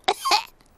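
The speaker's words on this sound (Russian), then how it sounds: "У меня кашель." A cartoon pig coughs twice in quick succession, a short close-up hack with a rough throaty edge, alone without talk.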